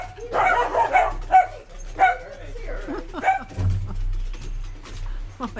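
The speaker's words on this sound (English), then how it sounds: "I have to go deal with our dogs." Several dogs bark and yip in short, irregular bursts, with some whimpering, under a person talking nearby.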